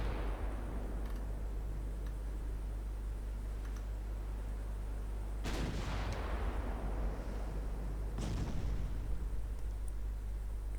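10.3-inch naval guns fire in a naval strategy game. Two or three deep, booming salvos stand out over a steady low rumble and hiss, spaced several seconds apart, with no voices.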